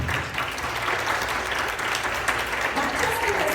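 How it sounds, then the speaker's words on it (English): Audience applause at a panel discussion event, a steady, dense wash of clapping from a crowd that holds at full volume throughout without letting up. "Let's give a round of applause."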